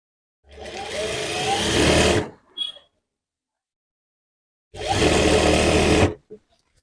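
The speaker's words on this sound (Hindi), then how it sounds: "यहाँ पे एक पैर की सिलाई लगाते हुए हम इस तरीके से अस्तर को जोड़ेंगे।" A sewing machine stitches lining onto kurti fabric made from an old saree, running in two steady whirring bursts of about two seconds each, close and loud, with short clicks and silent pauses between.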